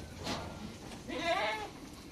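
Dairy goats on a farm let out a couple of short, nearby bleats, a brief one followed by a longer wavering call, against quiet background.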